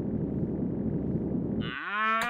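A cow moos once in the video game Pip Sweep, a low drawn-out bellow that rises in pitch near the end, clear and close, following a steady low background hum with no speech.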